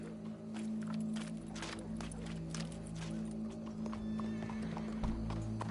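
Horse hooves clip-clop at a steady walking pace in Red Dead Redemption II, with a brief whinny and a low background hum, all fairly quiet.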